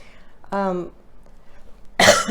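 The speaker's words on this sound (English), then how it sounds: "Excuse me if I cough." A short vocal sound followed by a single sharp, close cough near the end, otherwise quiet.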